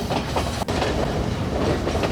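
A passenger train travels through Sri Lanka's hill country past forest and tea plantations, its wheels rumbling loudly and steadily on the rails from close by, with a brief dip and clatter partway through.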